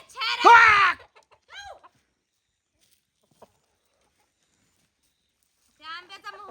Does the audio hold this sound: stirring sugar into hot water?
no